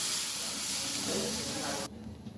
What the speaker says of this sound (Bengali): পরিমাণ অনুযায়ী জল দিয়ে দিচ্ছি।